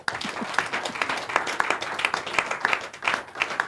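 Studio audience clapping during a live talk program, a fairly close, brisk scattering of hand claps that keeps going steadily throughout, with faint voices underneath.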